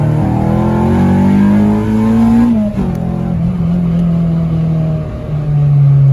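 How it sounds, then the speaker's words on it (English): A 7th-generation Honda with a K24/K20 engine swap accelerates hard on a highway, engine droning loud and close with its pitch climbing steadily into VTEC, a brief dip as it shifts, then pulling on at high revs. "We were confirmed in VTEC there."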